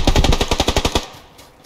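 Rapid automatic gunfire from a weapon in the PUBG Lite video game, a loud close burst of about ten evenly spaced shots lasting a second, then a quiet tail and one more sharp report at the end.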